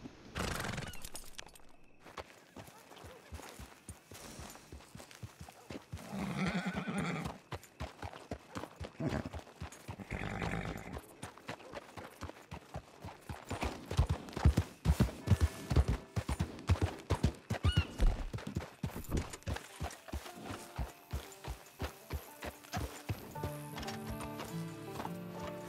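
A horse in the video game Red Dead, with hooves clip-clopping in an uneven rhythm and a neigh or whinny breaking in, moderately loud alongside other game sounds.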